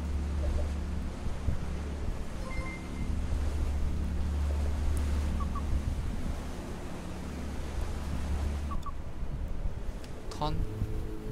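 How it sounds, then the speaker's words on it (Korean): Strong waves in Ship Simulator roll and crash around a vessel at sea, a heavy low rumble mixed with gusting wind noise, while a voice talks over it. "와, 여기 파도 진짜 세다,"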